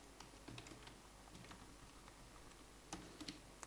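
Computer keyboard keys tapped in uneven bursts of typing, close and fairly quiet, with no voices.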